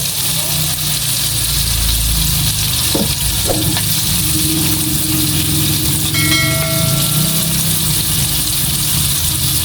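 Chicken fillet frying in hot oil for sweet and sour chicken, a continuous loud sizzle throughout with a couple of brief clinks of utensils and a faint ringing tone partway through.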